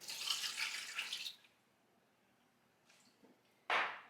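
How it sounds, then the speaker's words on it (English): A cup of water poured into an Instant Pot on a kitchen counter: a bright splashing pour for over a second, a quiet pause with faint small sounds, then a sharp brief splash near the end. "So then I add 1 cup of water."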